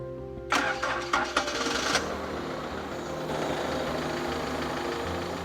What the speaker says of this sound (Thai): เราก็จะต้อง สตาร์ทเครื่องยนต์